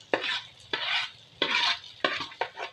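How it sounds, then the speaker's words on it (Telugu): Chopped onions and green chillies fry in oil for egg bhurji while a spoon scrapes through them in five distinct, close strokes over a soft background sizzle. "ఇప్పుడు ఈ రెండింటిని మనం ఆయిల్లో బాగా ఫ్రై చేసుకోవాలన్నమాట."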